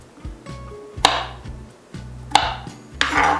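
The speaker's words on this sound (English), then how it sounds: "I really just want to chop everything. I like small pieces like that." Vegetables being chopped on a cutting board for chicken soup with escarole, a few sharp knife strikes with short runs of lighter cuts and faint clinks, close by.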